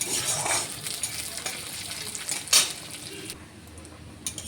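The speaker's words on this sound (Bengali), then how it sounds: "মুগ ডালটাকে আমি একটু ভেজে নেব।" Moong dal frying and being stirred in a kadai, a steady close sizzle with scraping stirs and one sharp metallic clink partway through, fading quieter toward the end.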